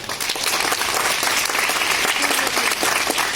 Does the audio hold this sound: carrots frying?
no